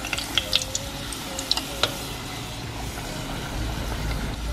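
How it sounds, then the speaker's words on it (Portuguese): Pastel frying in very hot oil, a soft steady sizzle and hiss with several sharp pops and crackles early on, fairly quiet and close; no talking. "vou colocar lá no óleo que já tá bem quente"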